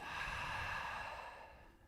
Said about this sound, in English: take a deep breath in. And smooth exhale out.